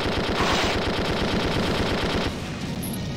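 Rapid automatic gunfire from a squad battle in the video game Valkyria Chronicles 2, a dense, loud, steady burst of shots that drops slightly in intensity toward the end.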